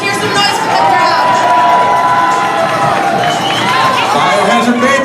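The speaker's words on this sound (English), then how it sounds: "Let's hear some noise from the crowd." A roller derby crowd in an arena cheering loudly and steadily, with shouts and whoops blending into a dense, continuous roar.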